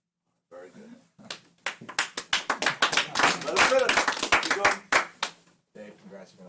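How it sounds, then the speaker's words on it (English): A round of applause at a car dealership for a new vehicle buyer, a small group clapping in rising, ragged bursts that swell then break off, with a quick pause and a brief resumption at the end. "Give him a round of applause."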